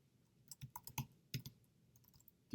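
Typing on a computer keyboard: a few quiet irregular key clicks in short bursts, close but faint against a hushed background.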